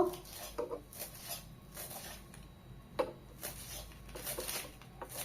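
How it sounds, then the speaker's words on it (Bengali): A knife chops fresh coriander leaves on a board, producing soft, irregular taps and scraping strokes, close and quiet, with a couple of sharper knocks. "ধনে পাতা কেটে নেব"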